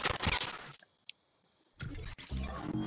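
SMG gunfire in a Fortnite match: dense, loud bursts of rapid shots open the moment, fall to near silence with one faint click, then resume in sustained rattling volleys.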